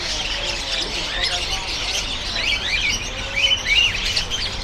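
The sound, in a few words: birds chirping at Hong Kong bird market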